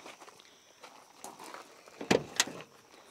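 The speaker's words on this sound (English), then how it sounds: "I'll open this door." The door of an old vehicle, over 35 years old and long left sitting outdoors in trees, opened with a couple of sharp metallic clunks and creaks near the end, preceded by faint rustling.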